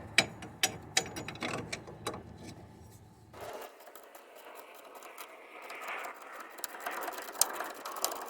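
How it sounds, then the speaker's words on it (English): Quick, faint clicks of a hand ratchet backing out Mercedes brake caliper bolts, a rapid run of ticks followed by softer scraping and handling noise, close and with no talking. "you can use my little driver or a regular ratchet to take them the rest of the way off"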